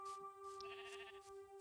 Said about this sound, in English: Horses and sheep just wandering around.